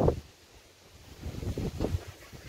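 Cool wind blowing outdoors as rain clouds gather, a rushing, gusty roar buffeting the microphone in swelling waves, fairly loud with no voices.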